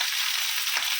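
Black cumin seeds and dried red chilli crackle in hot oil as the tempering for a vegetarian bitter gourd and pumpkin fry, a steady close sizzle with a hissing spit throughout.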